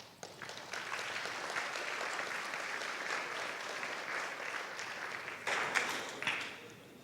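An audience at a policy talk on Iran and nuclear containment breaks into sustained applause, a dense, even roar of many hands heard from across the room that holds steady for several seconds, then trails off.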